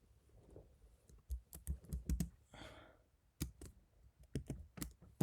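Python code being typed on a computer keyboard: irregular bursts of close, crisp key clicks, some louder clusters, with brief pauses between runs of keystrokes and no talking.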